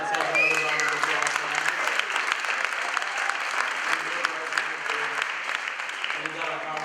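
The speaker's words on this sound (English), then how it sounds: "So let's have another round of applause." Steady, dense crowd applause fills the room at a community sanctuary rally in Amherst, a continuous wash of many hands clapping at even loudness throughout, with no speech over it.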